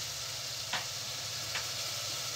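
A steady bubbling hiss of water boiling in a casserole pot for cooking chicken feet, with a couple of faint clinks standing out from the constant simmer.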